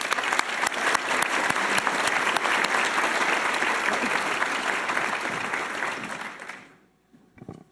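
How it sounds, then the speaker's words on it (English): Dense applause from a sizable crowd, loud and steady for several seconds before quickly fading out. "let's give a big round of applause"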